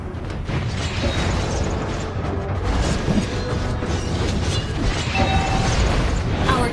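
A turret is destroyed in the mobile game Mobile Legends during an arena match, a loud booming explosion layered into dense, continuous game sound that stays at a steady high level throughout.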